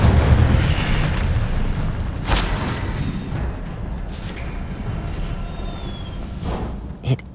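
A booming fire-spell blast from the Incendio charm in Hogwarts Legacy, a loud burst at the start that decays into a rumbling tail, with sharp crackles later and no talking.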